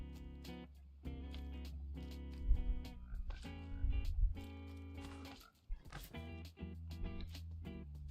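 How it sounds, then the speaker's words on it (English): Several Minecraft frogs croaking in short, tonal, repeated bursts with pauses between them, fairly quiet and close, with no talk over them. "Then the frogs eat them up."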